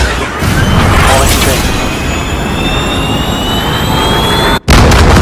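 A missile launch in Call of Duty Modern Warfare multiplayer roars as a loud, sustained jet-like rush with a rising whine, cutting out abruptly near the end before resuming.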